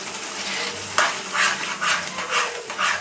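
Fresh cream mixture stirred in a pan over a low flame, giving rhythmic, swishing scrapes repeated about every half second, close and steady with no talk.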